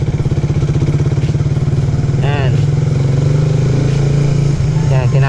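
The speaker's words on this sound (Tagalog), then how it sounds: "Kinakapos na yung motor pataas" A motorcycle engine labors steadily at low revs while straining uphill, a deep continuous rumble with a brief rising rev partway through, close and loud.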